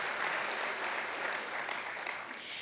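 An audience at Santa Monica's State of the City 2020 event gives a round of applause, dense and even throughout, heard from within the hall at moderate volume.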